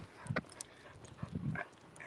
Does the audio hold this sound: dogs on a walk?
yes